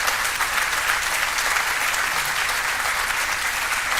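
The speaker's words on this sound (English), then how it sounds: "let's give a huge round of applause to my great friend," A crowd applauds Brian Higgins at a Buffalo waterfront investment announcement, a loud, dense, steady clapping that holds evenly throughout without a break.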